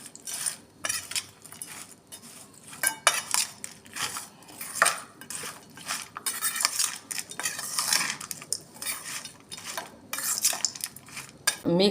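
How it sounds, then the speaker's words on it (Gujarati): A spoon stirring and scraping through chavana chaat with lemon juice and fresh coriander in a metal bowl, repeated close clinks and rustling crunches in uneven bursts, no speech. "હવે સારી રીતના મિક્સ કરી લઈશું।"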